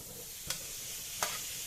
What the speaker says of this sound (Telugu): ఇలా వేయించుకోవాలండి